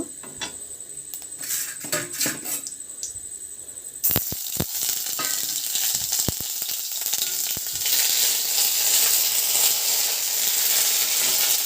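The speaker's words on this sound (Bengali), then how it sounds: "এই যে তেলের মধ্যে লঙ্কা তেজপাতা গোটা জিরে দিয়ে দিয়েছি এগুলো ভাজা হয়ে গেছে" Green chilies, bay leaves and whole cumin fry in hot oil with a dense, steady sizzle that grows louder midway, broken by a few sharp clinks of a utensil against the pan; no one speaks.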